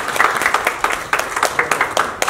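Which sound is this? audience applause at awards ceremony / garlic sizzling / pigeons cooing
audience applause at awards ceremony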